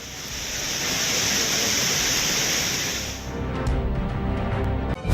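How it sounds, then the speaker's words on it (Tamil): Courtallam waterfall in heavy flood during monsoon rains, water roaring down in a dense, continuous broadband rush that stays loud for several seconds before easing slightly, with no voices. "தண்ணீர் ஆர்ப்பரித்து கொட்டுகிறது"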